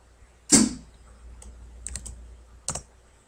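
Isolated keystrokes on a computer keyboard while entering a spreadsheet formula: one sharp tap, then a quick cluster of light clicks and a final tap, close and otherwise quiet.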